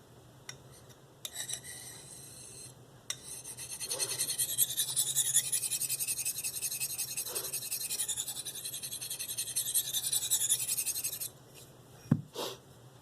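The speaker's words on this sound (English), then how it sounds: "push the stone forward, and you can hear it and feel it when it bites in the stone" A D2 steel Eafengrow CH3001 blade drawn along a Spyderco medium sintered ceramic bench stone, giving one long, close, loud, gritty scraping pass that lasts several seconds, followed by a couple of short scrapes and a knock.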